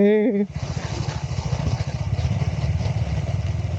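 KTM Duke 390 motorcycle riding off road: after a brief voice, a steady throbbing single-cylinder engine note runs close by with uneven pulses and clatter from the rough ground.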